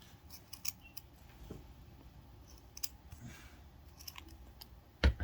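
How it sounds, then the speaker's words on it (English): Scissors snip through folded felt while cutting out teeth for a crochet pumpkin candy bag: several quick, crisp close-up cuts spaced through the clip, with a sharper louder snip near the end and no talking. "And now you can cut out teeth."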